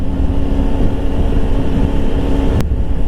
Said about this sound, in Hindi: बट आवाज़ बाइक का कुछ ऐसे फील नहीं दे रहा है मुझे